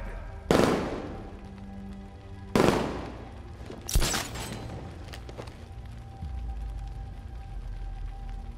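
Gunfire in Batman: Arkham Knight lands as three sharp, loud bursts spaced a second or so apart, each ringing out with a decaying tail, followed by a low rumbling hum.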